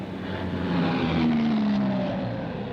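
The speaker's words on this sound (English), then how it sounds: "A Blackburn Beverley is signalled OK for takeoff." A Blackburn Beverley aircraft prepares for takeoff at an airport opening in Wellington, New Zealand, its engines giving a steady, loud, droning roar with a tonal hum throughout.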